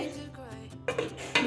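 A lid set down on a kadai of mourala fish with raw mustard oil and green chillies on a gas stove gives two sharp metallic clatters, close by.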